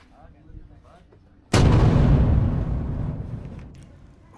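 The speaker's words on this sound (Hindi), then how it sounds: "फिलहाल हमें 3 ग्रेनेड मिले हैं थ्रो करने के लिए" A grenade thrown at a range in Jaisalmer bursts in one sudden, loud blast after quiet murmuring, and its rumble rolls on and slowly fades over the next few seconds.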